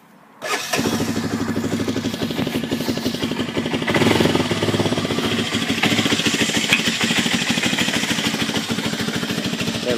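A small engine on choke cranks and catches after a brief silence, then runs on at a steady, fairly loud, slightly uneven idle with a lumpy rhythm and a rise in pitch midway, heard close up with no talk.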